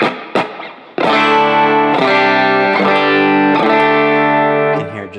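Electric guitar chords played through a Valhalla Vintage Verb reverb plugin with the low cut at 450 Hz, several sustained strummed chords ringing into a lush, lingering tail, loud and up front with no talking.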